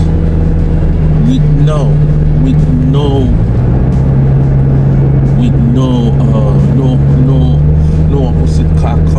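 A car drives at night on an empty road, a steady engine drone running underneath while a person talks throughout.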